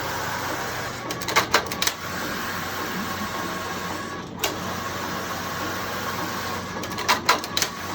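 A Passap E8000 knitting machine working rows of a blanket, making a continuous mechanical whir with periodic clicks and clacks as the carriage moves, steady and close.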